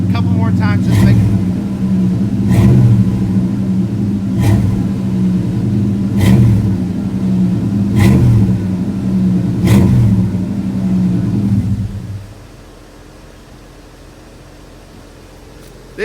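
A 1974 Ford F-250 Ranger SuperCab with a Flowmaster exhaust revs hard several times over a steady low idle, each blip a loud, close burst of rumble, before the engine shuts off and leaves quiet near the end.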